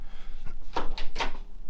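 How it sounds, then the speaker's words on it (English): A 1971 Chevelle's door opens from the interior side in a few short clicks and creaks of the latch and hinge, close by and fairly quiet over a low background hum. "Don't want to open the door too far because I'm gonna hit my seats here"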